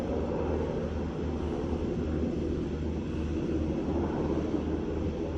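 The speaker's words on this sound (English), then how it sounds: "Helicopter." A helicopter drones steadily overhead, a continuous low rumble with a faint rhythmic thump, fairly distant and unbroken by any voices.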